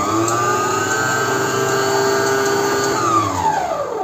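Electric hand mixer whirring steadily as it beats eggs and sugar for a lemon cake batter, a loud, continuous motor drone whose pitch shifts near the end as the beaters slow and stop.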